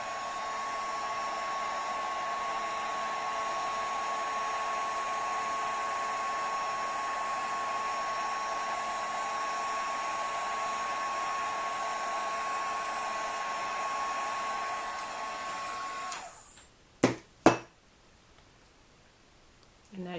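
A heat tool blowing steadily as it melts embossing powder on a poinsettia Christmas card, a loud continuous whirring roar that cuts off near the end, followed by a couple of sharp clicks.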